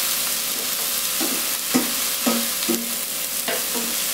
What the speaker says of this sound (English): I'm going to saute all three of these things together, the vegetables together